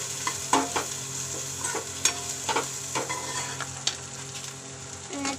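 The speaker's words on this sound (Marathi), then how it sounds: "त्यामध्ये बटर टाकलं आहे आणि त्यामध्ये कांदा आणि जिरं टाकलं आहे. आता ह्याला फ्राय करून घ्यायचं" Onion and cumin frying in butter in a kadhai, giving a continuous close sizzle under repeated stirring scrapes and spoon clinks, fairly loud and steady throughout.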